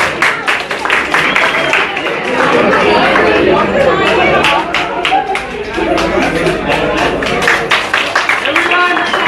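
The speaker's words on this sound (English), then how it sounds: "Give them a big applause." A crowd at a show in Tbilisi, Georgia applauds the Indian dance group Lakshmi, with sharp scattered claps over loud, continuous audience chatter.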